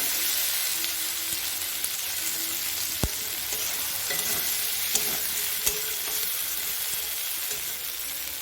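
Taro stolon curry sizzles steadily in a frying pan while it is stirred, giving a constant close hiss broken by a couple of sharp utensil clicks and faint scraping.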